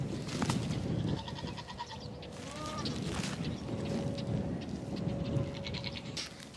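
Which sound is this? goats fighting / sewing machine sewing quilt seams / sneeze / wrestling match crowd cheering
goats fighting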